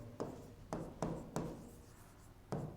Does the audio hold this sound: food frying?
no